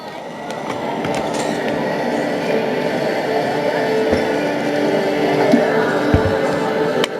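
Train at a railway station in a film, a steady rumbling rail roar with faint wheel squeal and clatter running continuously throughout, fairly loud and close, with no talk over it.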